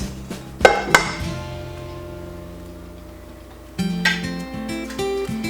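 Metal pot lids clank and clatter as they are set into a kitchen cabinet: a few sharp ringing knocks, then a short rattle, close and fairly loud.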